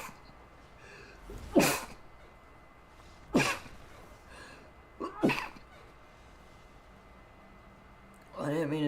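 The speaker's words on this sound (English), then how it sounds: "I didn't mean to sneeze that much." Three loud sneezes from a person playing MTG Arena ranked matches at home, spaced about two seconds apart, each a sharp burst rising out of a quiet room, followed by a short stretch of speech at the end.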